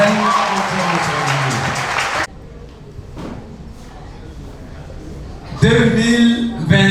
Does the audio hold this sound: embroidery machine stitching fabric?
no